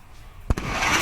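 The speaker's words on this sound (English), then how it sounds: "Sonic boom, baby." A single sharp double-thump boom cracks out of quiet background, followed by a lingering rumble that stays loud for the rest of the moment.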